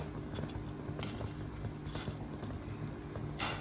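Soup with bitter melon simmering in a large pot, a steady low bubbling patter with soft pops and occasional louder splashes, close and continuous.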